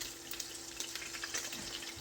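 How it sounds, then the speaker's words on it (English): Meatballs searing in a sauté pan give off a steady, even sizzle up close, a continuous hiss with small crackles and no voices. "I am going to put the meatballs to sizzle in here."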